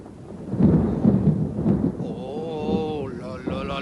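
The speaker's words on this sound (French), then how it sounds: "Oh, la pluie maintenant, il manquait plus que ça." Cartoon rain and thunder: low rumbling and rain-like noise fills the first half, then gives way to a voice speaking over the fading storm.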